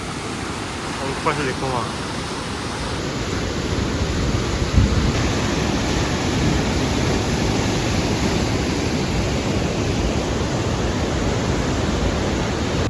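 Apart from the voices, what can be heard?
fast-flowing waterfall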